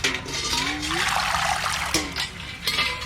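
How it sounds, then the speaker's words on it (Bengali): Water runs and splashes steadily over a whole hilsa fish as it is rinsed, with a trickling, gurgling flow close by and a few louder splashes. No one speaks. "গোটা মাছটা আগে ধোবো।"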